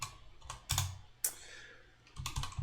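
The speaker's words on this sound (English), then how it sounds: "And then I'm just going to type" Close, quiet keystrokes on a computer keyboard come in short bursts of clicks, separated by brief pauses, with no one talking.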